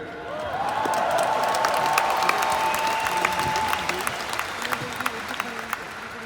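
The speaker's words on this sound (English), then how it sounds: "I should get a bigger applause than that" A crowd at a motivational talk breaks into sustained applause with some cheering, a dense steady wash of clapping that swells and then slowly thins, with a voice rising over it.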